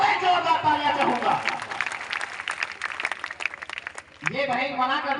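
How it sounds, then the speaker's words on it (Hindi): A crowd at a Prajapati community student honour ceremony in Viratnagar, Alwar, claps in a short burst of dense applause between stretches of someone talking over a loudspeaker. "एक बार पूरे जोरदार तालियां चाहूंगा।"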